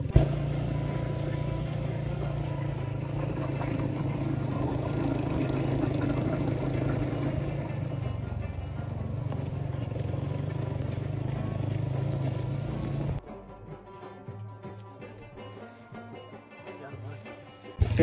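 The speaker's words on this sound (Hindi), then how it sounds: "तो सोचा भाई हम बाइक पे निकलते हैं आज" A motorcycle rides on a rough, rocky unpaved mountain road in Nagar, giving a continuous loud engine drone with clattering. Near the end the engine noise drops away to a much quieter background.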